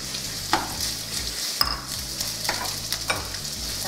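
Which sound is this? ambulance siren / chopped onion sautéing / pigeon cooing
chopped onion sautéing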